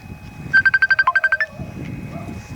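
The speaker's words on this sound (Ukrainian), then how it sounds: "Хтось дзвонить." An incoming call sets a phone ringing at a country dacha garden: a short, loud burst of rapid electronic beeps in a quick pulsed melody, followed by quiet outdoor background.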